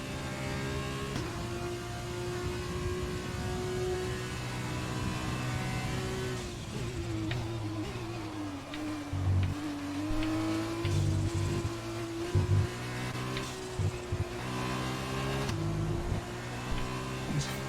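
A Formula 2 car's engine howls steadily at high revs through Monza's Lesmo corners in a racing game, dipping briefly under braking and coasting before climbing smoothly back to full power, loud and continuous with no talk.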